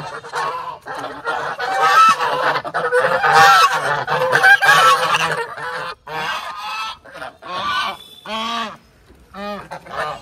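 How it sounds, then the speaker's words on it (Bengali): A flock of Chinese geese honks loudly and nearly continuously nearby, harsh overlapping calls rising and falling, with a few distinct single honks at the end. "আর এখানে চীনা রাজহাঁসগুলো আছে, রাজহাঁসগুলো ছেড়ে দিব।"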